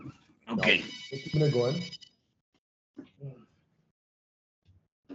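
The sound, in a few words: phone ringing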